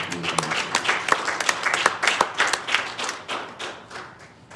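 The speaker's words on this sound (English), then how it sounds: "Will you clap your hands" Church congregation clapping hands during a sermon on mercy, a loose burst of individual claps with voices mixed in, fairly close and moderately loud, thinning out toward the end.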